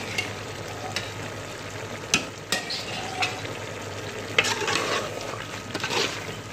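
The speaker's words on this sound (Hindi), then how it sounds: "मिक्स कर लेंगे इसे अच्छी तरह।" Chicken fried rice tossed and stirred in a pan, with a soft sizzle beneath a handful of sharp spatula scrapes and clicks, close and without voices.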